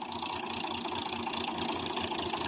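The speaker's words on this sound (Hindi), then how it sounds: "ट्रैक्टर जो है वो अभी चल रहे हैं" A tractor engine fitted with a rotor runs in a farm field, a steady, loud, throbbing mid-range drone with a rhythmic knock, heard close and alone.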